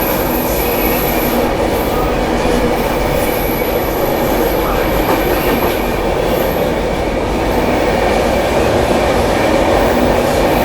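The 12565 Bihar Sampark Kranti Superfast Express races through Tundla Junction while overtaking the Vaishali Express, a loud, continuous rumble of wheels on rails with a high wheel squeal heard from inside the 2AC coach.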